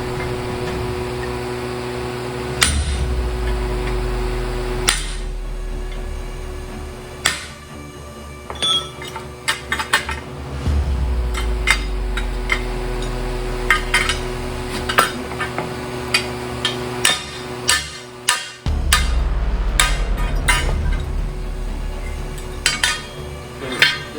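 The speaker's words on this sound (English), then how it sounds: "I usually take a chisel and hit right down on the side over here." A chisel is hammered against a worn front suspension part on a 1967 Cadillac with 56 years of wear, giving sharp, loud metallic strikes at irregular intervals over a steady low hum.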